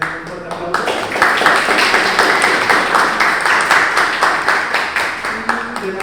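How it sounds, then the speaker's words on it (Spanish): An audience at a graffiti talk gives its honorees a strong round of applause, steady dense clapping that builds quickly and holds, with a voice or two mixed in. "quiero que les den un fuerte aplauso"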